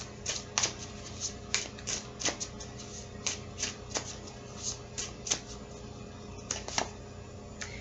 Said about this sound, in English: let's pull some cards here on advice